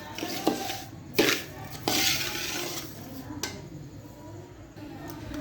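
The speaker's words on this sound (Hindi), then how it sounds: "हम लोग सूजी, ड्राई मिल्क और चीनी को भून रहे हैं" Semolina, dry milk and sugar being dry-roasted in a pan for a sweet, with metal spoon scraping and clinking against the pan in bursts near the listener, a faint sizzle beneath, and a voice talking at moments.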